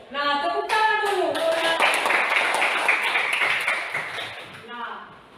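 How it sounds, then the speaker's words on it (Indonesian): A group of people clapping in a classroom, a dense burst of applause that fills the clip, with a voice speaking over it at the start. "tepuk tangan dulu"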